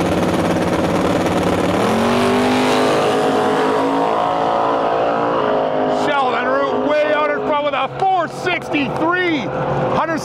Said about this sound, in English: Mile an hour pass from Sheldon.